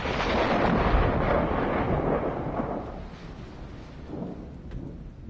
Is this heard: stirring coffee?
no